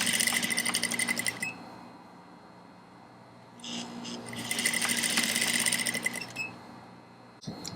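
An industrial sewing machine stitching a corset seam runs in two bursts of rapid, steady mechanical whirring and needle chatter, with a short pause between them.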